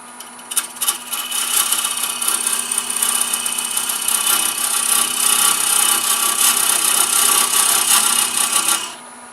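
Wood spinning on a lathe while a box scraper cuts it, a steady loud scraping and rasping over the motor's hum for several seconds, stopping sharply near the end.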